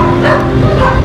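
Street dogs being fed kibble on the street, a loud, close bark with yipping overtones, short and sharp, standing out against background noise.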